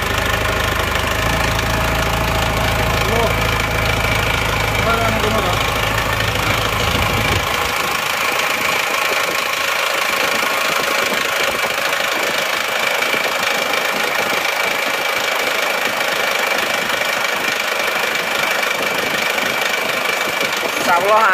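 An Isuzu Panther diesel engine idles with a knocking, rattling rhythm; the deep low rumble drops away partway through while the clattering idle continues steadily.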